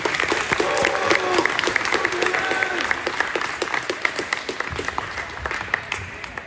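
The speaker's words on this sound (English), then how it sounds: "Clap it up for these two." A school audience applauds steadily after a motivational speech, dense clapping filling the whole stretch and thinning slightly toward the end, with some voices mixed in.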